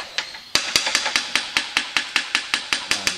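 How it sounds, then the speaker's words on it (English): A Snap-on rubber-faced striking hammer, model MPBS-12A, taps a John Deere cylinder part in about fifteen sharp, evenly spaced blows in quick rhythm, close and loud with no talking. "I really like these snap-on hammers with the rubber that protrudes"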